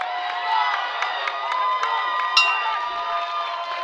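A capacity crowd at a live fight event in the WFCU Banquet Hall cheers and whoops after a round, a sustained roar with sharp shouts and whistles standing out, while an announcer's voice carries faintly underneath.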